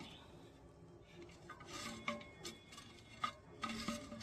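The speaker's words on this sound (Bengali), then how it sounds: "এখন টবের নিচে আমি কিছুটা মাটি দিয়ে জায়গাটাকে লেবেল করে নেব।" Loose soil is scooped and spread beneath a pot while repotting a fruiting citrus plant, giving soft gritty scraping and rubbing with a few light knocks, close and fairly quiet, with no talking.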